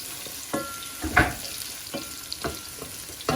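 Small bay leaves fry in hot oil for Bangladeshi sticky rice, a close crackling sizzle broken by several sharp stirring scrapes and clinks at irregular intervals, with no talking.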